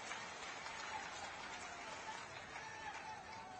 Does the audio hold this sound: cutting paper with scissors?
no